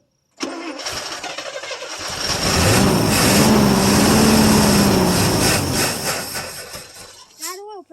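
Engine of a 1973 International 1110 truck with a 345 V8, cold-starting after sitting about five years: a long cranking roar that catches and runs loud and rough for several seconds before cutting off, with a voice at the end.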